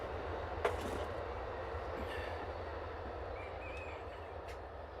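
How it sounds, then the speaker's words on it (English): A passing Amtrak passenger train, heard as a steady, fairly faint rumble and rolling roar that holds evenly throughout, with one brief sharp knock near the start. "Hot on the heels of the one is another train. Sounds like a passenger train."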